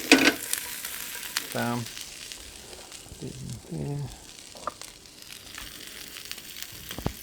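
Fish frying in oil in a pan during a home dinner, a soft crackling sizzle under a few short spoken words, with clinks and scraping from handling the pieces, fairly quiet and close.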